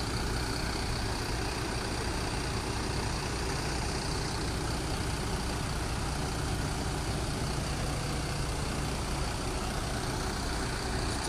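Steady, low diesel idle of a long-distance bus parked at a Pekanbaru bus terminal, a dense, unbroken rumble that holds one level for the whole stretch.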